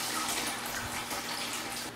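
Water drains steadily out of a biodiesel processing tank during separation of the water phase from the biodiesel layer, a continuous broadband rushing that holds constant and fairly loud for the whole stretch.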